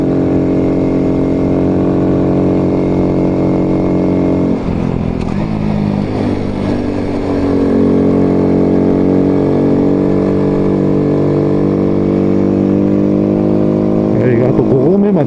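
A Honda Dax125 motorcycle engine riding uphill toward the Mount Fuji fifth station, a steady loud droning hum held at moderate revs throughout, with a rider talking over it.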